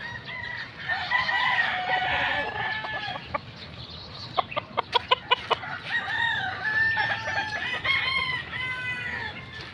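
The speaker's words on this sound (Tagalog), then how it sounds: "Ito mga manok nila dito." On a backyard chicken farm, several hens cluck and roosters crow nearby, overlapping with one another. A burst of sharp clucks and cackles comes in the middle, and crowing goes on throughout.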